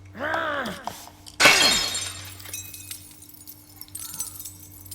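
Mirror glass smashing as a sound effect in a grimdark audio story: a sharp loud crash with glittering shards scattering, then tinkling pieces settling and fading.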